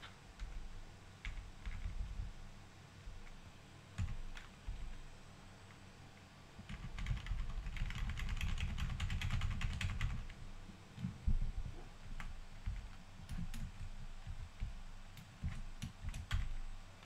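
Fast, irregular clacking of a computer keyboard during a game, bursts of keystrokes close by and fairly loud, with no talking.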